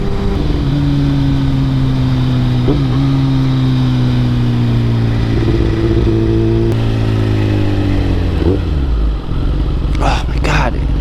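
A motorcycle fitted with an SC Project SC1-R exhaust idles loud and close, a deep steady burble whose pitch drifts slightly, with small blips and a brief rev near the end.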